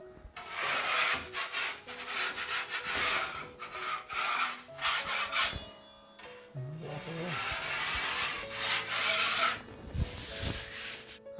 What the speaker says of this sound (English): we're going to begin by just scraping off very gently any high spots or edges the blade left